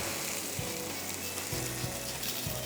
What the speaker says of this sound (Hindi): उसमें मैंने जिंजर गार्लिक डाला, चॉप कलौंजी डाली और ये लाल मिर्चें डाली